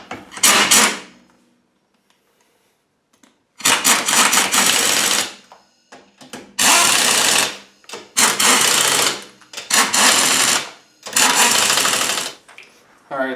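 Wheel lug bolts are tightened during a flat-tire repair, producing about seven loud, rattling mechanical bursts, each roughly a second long, separated by short pauses and a longer quiet gap near the start.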